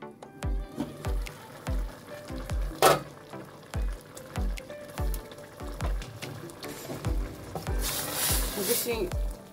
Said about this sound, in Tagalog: Tapos palutuin na lang muna natin ang upo.